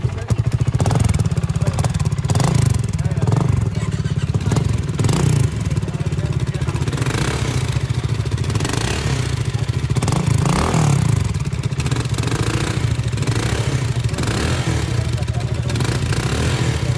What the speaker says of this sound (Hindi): बैफल को रिमूव करने से एग्जॉस्ट नोट में और ग्रंट और बास आ जाता है